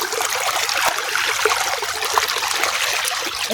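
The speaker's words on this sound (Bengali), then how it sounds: "এদিকে বাঁধ খুলে দিয়েছি, জল ঢুকছে" Muddy water rushing steadily through a gap opened in a mud dam, a close, continuous trickling and splashing flow with no talk.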